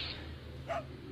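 Single faint dog bark in Resident Evil 4, a brief yelp over a low steady background hum, no voices.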